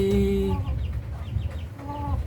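A Rhode Island Black Mahogany rooster on a native chicken farm gives close, loud clucking calls, with a harmonic call at the start and another near the end over steady farmyard noise.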